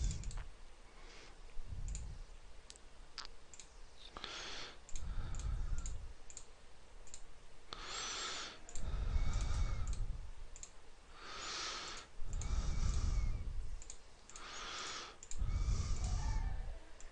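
Button presses on a graphing calculator as data is typed in, soft irregular clicks in small clusters, close and faint against quiet room noise.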